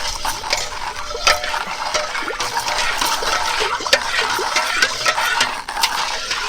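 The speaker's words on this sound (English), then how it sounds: "So while the tea is still hot, I'm going to dissolve in all the sugar." Sugar stirred into a large batch of hot Louisiana tea, made by the gallon, gives a steady wet swishing with scattered light clinks and splashes, fairly close and without talk.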